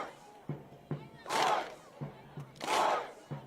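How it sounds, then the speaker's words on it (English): A soccer crowd at a US Open Cup match between Portland Hearts of Pine and Hartford Athletic claps in unison, steady rhythmic claps broken by two swelling roars of chanting, with commentary over the top. "They clap in unison here"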